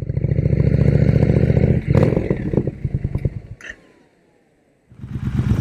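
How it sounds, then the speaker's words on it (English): A 2022 Triumph Speed Twin 1200 motorcycle fitted with a Zard 2-into-1 exhaust rumbles loudly and close, its engine throbbing and revving for a few seconds before briefly falling quiet and then roaring back. "That, my friends, is a 2022 Triumph Speed Twin with a Zard 2-in-1 header."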